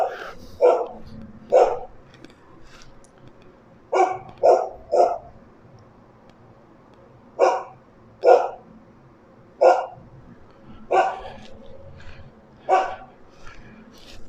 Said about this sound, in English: We have that noisy dog.